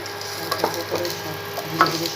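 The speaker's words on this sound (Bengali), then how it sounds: "এখন আলু সাদা তেলে দিল ভাজার জন্যে" Potatoes fry in white oil with a steady close sizzle, broken by a few light clinks and stirring taps.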